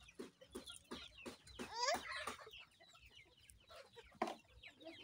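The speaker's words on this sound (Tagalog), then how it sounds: "Manok!" Backyard chickens on a rural farm cluck in quick, uneven bursts, with one louder drawn-out call in the middle, all fairly close and faint against a quiet yard.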